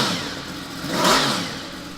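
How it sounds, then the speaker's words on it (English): Yamaha MT-10 touring motorcycle, a 2018 model, firing up and blipping its engine, a steady mid-pitched rumble that swells into one short rev near the middle before settling back, close and fairly loud. "Give it a quick fire up because these sound absolutely gorgeous with decal on"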